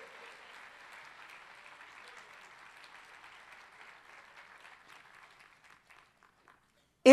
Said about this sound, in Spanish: Y un aplauso para Jesús esta mañana